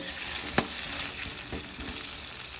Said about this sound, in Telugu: ఆల్రెడీ ఉడికినాయి కానీ కొంచెం మంచి ఎర్ర వేయంత వరకు వేయించుకోవాలి